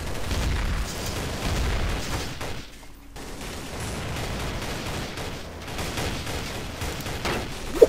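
Sustained gunfire in Counter-Strike: Source gun game mode, dense rapid shots with a short lull midway before the firing resumes, loud and continuous throughout.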